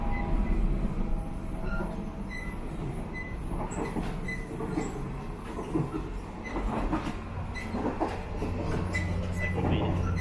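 Steady rumble of a train rolling along the rails between Taipei and Hualien, Taiwan, with rhythmic clattering and occasional metallic squeals over a constant low drone.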